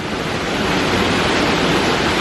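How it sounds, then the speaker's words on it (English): A waterfall gushes at close range, its broad roar of falling water filling the air as a steady, loud, unbroken wash of noise. "We just went down into the base of the waterfall."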